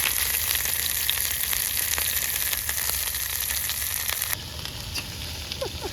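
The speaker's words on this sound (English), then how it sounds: "Got the other steak on the grill." Steak sizzling steadily in a pan on a camping stove burner outdoors on a cold, rainy island campsite, a continuous close fry hiss with scattered crackles throughout, thinning slightly near the end.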